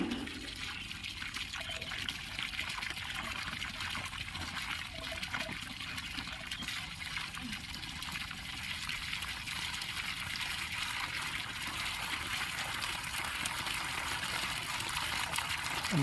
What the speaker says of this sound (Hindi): पानी तो निकल चुका है